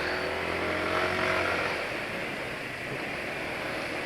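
A car engine runs steadily while driving in daytime, a smooth, even drone with road noise and no sharp revving, heard alone at moderate level.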